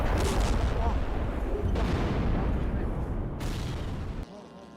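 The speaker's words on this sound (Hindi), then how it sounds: "हिजबुल्लाह ने आईडीएफ की पोस्ट को निशाना बनाया है, दागे हैं रॉकेट।" Rocket fire and explosions from a Hezbollah attack on an IDF post rumble and crack in a dense, loud barrage of booms and bursts, continuous throughout with several sharp onsets, ending in a quieter tail.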